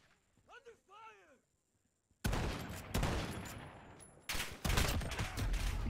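Bursts of gunfire in Call of Duty: Modern Warfare (2019) Domination, a dense volley of shots and rumbling blasts erupting after a brief quiet with a distant voice, continuing loud and sustained to the end.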